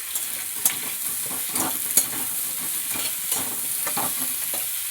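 Potatoes seasoned with salt fry in a pan with a steady sizzle, broken by a few sharp scraping stirs of a spatula.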